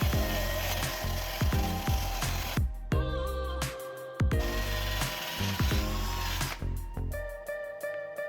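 A drill spins a brass wire brush against Mazda RX-7 parts during a restoration, a close, loud whirring scrub with repeated clattering bursts and brief pauses between passes.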